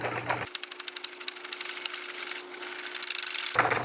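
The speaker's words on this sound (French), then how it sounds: "on va continuer de fouetter jusqu'à avoir la texture désirée" A whisk beats cream into a firm chantilly for filling cream puffs, giving a steady, fast rhythmic whirring and tapping that runs continuously and close up, with no talking.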